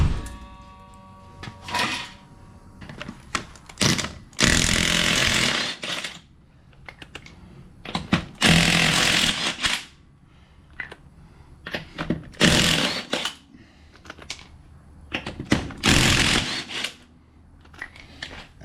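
An impact tool with a JB-welded adapter socket zips lug nuts off a Polaris Pro XP in short, loud, close bursts separated by quieter clicks and handling clatter.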